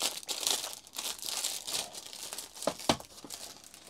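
The plastic and paper packaging of a Netgear ProSafe Plus GS105Ev2 five-port network switch is unwrapped up close, giving continuous crinkling and rustling with a few sharper crackles and tearing sounds, and no talking.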